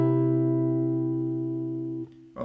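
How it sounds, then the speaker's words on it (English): Sustained ringing guitar notes from a chord shape picked string by string, decaying slowly before a brief soft scrape of the next notes. "we're going to break all of these chord shapes down, and we're going to play each string individually"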